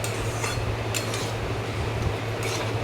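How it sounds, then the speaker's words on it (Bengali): Egg being stirred in a cooking pan for a Bengali torka, a steady low frying rumble under a few soft metallic scrapes and clinks of the utensil against the pan. "ডিমটাও দিয়ে ভালো করে নাড়াচাড়া করে নেব।"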